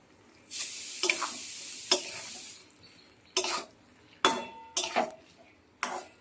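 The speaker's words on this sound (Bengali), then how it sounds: "ভেজে রাখা ডিমটা দিয়ে দিচ্ছি" Fried eggs being stirred into a thick taro curry in a pan, with a faint sizzle under a series of sharp, separate spoon scrapes and clinks against the pan, close and fairly loud.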